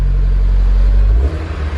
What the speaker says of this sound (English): This thing sounds so nice, by the way. It's got our quiet exhaust.